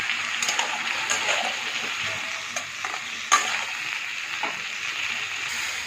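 Turmeric and spices sautéing in a pan for a fish curry with pointed gourd and potato, a steady close sizzle with scattered clicks of a spoon stirring, no voices.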